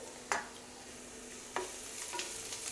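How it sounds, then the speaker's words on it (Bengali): Grated garlic being stirred into onions frying in a pan, with a few distinct stirring scrapes over a soft, steady sizzle, close and fairly quiet. "জাস্ট রসুনটা দেওয়ার পরে মিক্স করে নিলাম"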